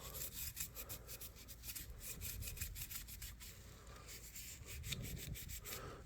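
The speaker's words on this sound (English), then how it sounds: "we can use some steel wool down there, and this is good against the side walls" Steel wool scrubs rust from inside a vintage Imperial Kamp King knife, a close, continuous scratchy rubbing with quick rhythmic back-and-forth strokes throughout.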